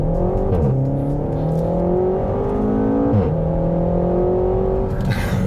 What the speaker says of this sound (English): Launch control on. Getting the revs up.